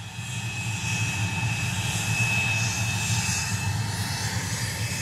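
Airplane engine at Biggin Hill Airport, a steady, loud drone with a low throbbing rumble that holds constant for the whole span, with no voices over it.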